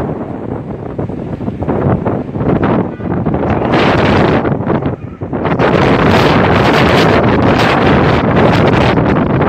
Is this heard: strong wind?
yes